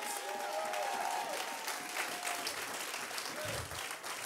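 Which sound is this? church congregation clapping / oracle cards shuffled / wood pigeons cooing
church congregation clapping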